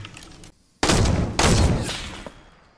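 Fortnite gunfire, a loud burst of rapid shots erupting after a brief quiet, then a second sustained volley that trails off.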